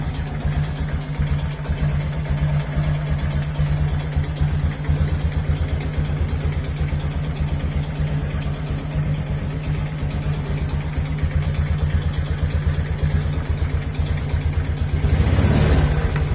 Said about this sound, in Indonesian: Kita coba starter ya.